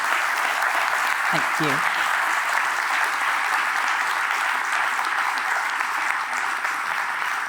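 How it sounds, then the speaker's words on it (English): A conference audience at an innovation talk applauds loudly and steadily for the whole stretch, a dense wash of clapping, while a voice briefly speaks over it early on. "let's give them a massive round of applause"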